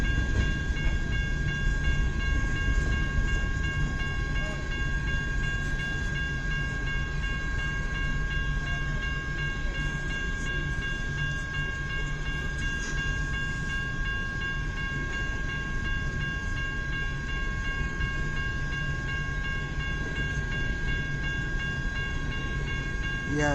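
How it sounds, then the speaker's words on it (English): A westbound CN B731 grain freight train rolls past in Kimball Township, Michigan, its steady rumble and rail noise carrying a sustained tonal whine for over twenty seconds at a constant, fairly close level. "That's a cool grain train."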